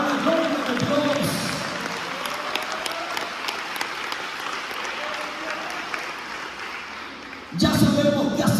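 A church congregation breaks into sustained applause, a steady dense clatter of many hands filling the room, swelling louder and brighter near the end.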